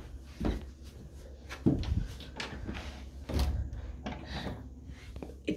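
A bedroom door bumps against a coat rack and fails to close, giving several short knocks and thuds spaced a second or so apart at close range.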